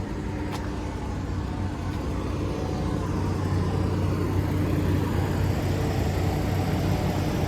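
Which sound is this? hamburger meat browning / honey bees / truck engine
truck engine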